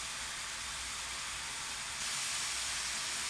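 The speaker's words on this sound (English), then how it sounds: "you can hear that sizzle going on" Steady broadband hiss and crackle of beef bulgogi sizzling in a hot pan, continuous and fairly loud, growing slightly brighter near the end.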